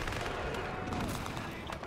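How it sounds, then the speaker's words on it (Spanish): Gunfire from the video game Call of Duty 2, a dense run of shots and bursts that continues steadily through the moment, with muffled voices faintly mixed in underneath. "Va a haber que pegarles tiros en la cabeza."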